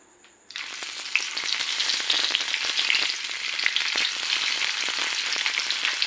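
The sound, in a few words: stuffed bitter gourds frying in hot oil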